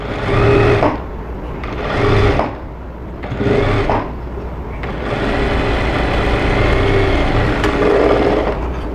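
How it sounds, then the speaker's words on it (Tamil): A sewing machine stitches a blouse lining seam in close, loud bursts of steady whirring, three short runs and then a longer continuous run. "இந்த மாதிரி வச்சு இப்போ 1/2 இன்ச்னா 1/2 இன்ச் கேப்பில் அப்படியே தையல் போட்டு எடுத்துக்கலாம்"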